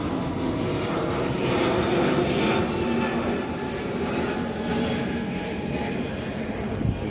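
An airplane passes overhead above heavy cloud cover in Delhi, a broad, moderately loud engine roar that swells and fades gently.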